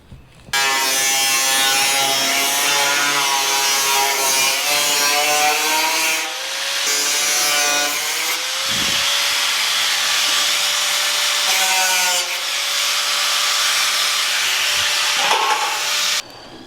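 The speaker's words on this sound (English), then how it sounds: "and then this got cut with an angle grinder" Angle grinder cutting a steel roof sheet for a shed, a loud close continuous high-pitched whine and grinding screech with the motor pitch dipping and rising as it bites, stopping near the end.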